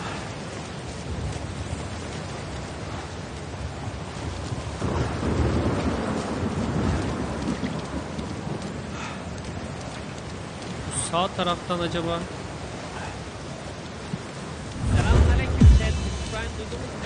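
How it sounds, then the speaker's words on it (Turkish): Heavy rain and rolling thunder in the battle royale game PUBG, a steady downpour with a loud thunder rumble near the end, while a player talks briefly over it. "Nasıl bir yağmur?"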